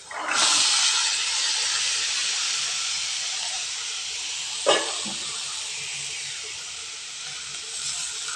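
Half a kilo of freshly shelled green peas sauté in hot oil for pattani sundal, giving a loud, steady hiss that holds nearly unbroken throughout, with one brief sharp stir or scrape partway through.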